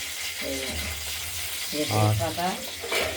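Five-spice tempering sizzles in hot oil in a wok, a steady crackling hiss running under a person's speech throughout.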